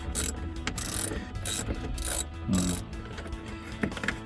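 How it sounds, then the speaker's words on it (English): A hand ratchet with a 7mm socket loosens a small bolt on an F-150 trailer brake control module, giving rapid repeated clicking strokes close up in a quiet room. "again we can use the 7mm socket that we did earlier. Go ahead and take this off."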